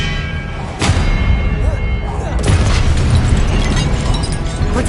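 An Expelliarmus spell is cast in the Hogwarts Legacy video game, a sharp magical burst followed by a sustained crackling, rumbling impact and a second surge, loud and dense amid other game effects.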